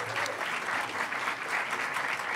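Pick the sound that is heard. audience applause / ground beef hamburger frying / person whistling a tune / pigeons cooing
audience applause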